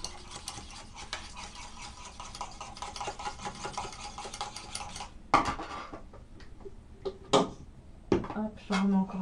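A utensil scrapes and clinks against a bowl as a thickening hair-color mixture is stirred, a continuous rhythmic scraping that ends with a few sharper knocks, while a person talks over it.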